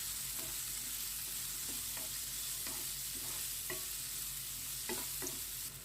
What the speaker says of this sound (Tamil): இப்போ இந்த வெங்காயத்தை நல்லா வதக்கி விட்டுக்கலாம்